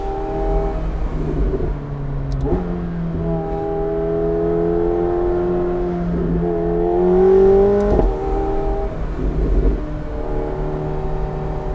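A McLaren 750S Spider engine revving and pulling through gears on a back road, pitch climbing and dropping between shifts, loud and close from inside the car.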